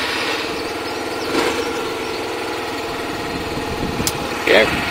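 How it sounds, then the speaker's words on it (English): A Yamaha YBR 125 motorcycle engine idles steadily in neutral on a cold start, a close, even low putter running throughout with a couple of brief knocks. "let's get the engine going"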